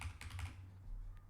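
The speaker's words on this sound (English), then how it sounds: "typing Rod for my password" Someone types a password on a computer keyboard while installing WordPress: a quick burst of faint, close key clicks that then trails off into quiet room hum.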